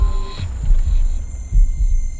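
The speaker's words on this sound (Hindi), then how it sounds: "उसने अपने दिल की धड़कनों को तेज होता महसूस किया।" A horror-story sound effect of a fast heartbeat gives deep, muffled low thumps that pulse irregularly beneath a steady high electronic hum, loud and close.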